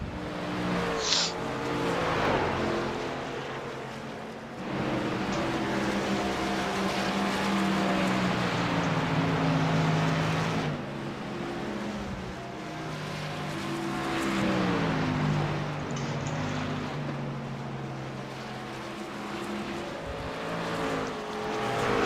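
Race trucks of the Demon Truck Series lap Rockingham under a continuous, loud engine roar, pitch rising and falling as they pass and shift, with several trucks overlapping throughout.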